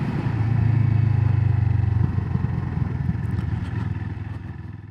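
A CFMoto 700CLX Sport motorcycle engine drones loud and close with a steady throbbing note. It swells, then gradually fades as the bike pulls away, with no talking.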